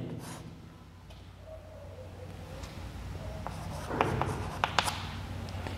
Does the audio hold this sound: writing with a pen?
yes